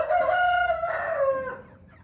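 An American Bresse rooster crows once, a loud close drawn-out call lasting about a second and a half, with faint farmyard background and no speech.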